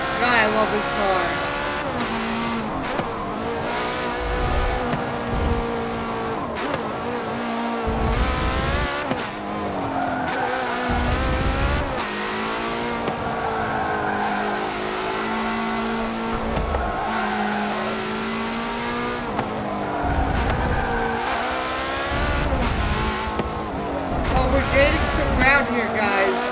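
Porsche race car in a racing video game: a loud, revving engine that rises and falls through gear changes, with repeated tire squeals and skids through corners, and a player talking over it throughout.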